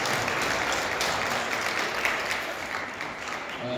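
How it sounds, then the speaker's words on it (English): An audience at a jazz festival applauds for the organisers, a steady, dense clapping that fills the room at an even level for the whole stretch, with no talk heard over it. "why don't you give them a round of applause for putting all this together."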